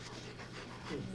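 A pet dog pants close by at home during a Christmas gathering, a steady soft breathy rasp running throughout, with a voice briefly heard near the end.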